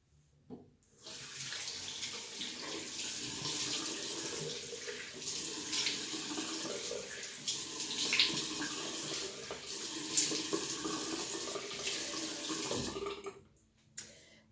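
Water runs from a bathroom tap into a sink as a face is rinsed, a steady splashing flow lasting over ten seconds with brief quiet at start and end.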